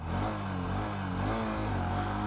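A Honda SP 125 motorcycle engine runs close by with a steady mid-range drone that swells and eases as it revs, continuous throughout with no talk.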